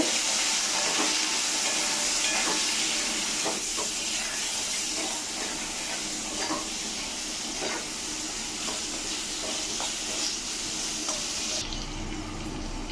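Small fish such as golsa and tangra fry in oil with salt, turmeric and green chilli, making a loud, continuous hissing sizzle with a few light scrapes, which cuts off abruptly near the end.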